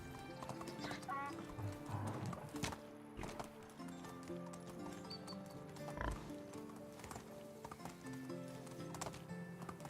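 Horse hooves clip-clopping in a trotting rhythm in the video game Medieval Dynasty, with an occasional whinny, set under game music and ambience while a voice talks.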